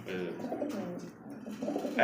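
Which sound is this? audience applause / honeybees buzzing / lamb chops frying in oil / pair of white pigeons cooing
pair of white pigeons cooing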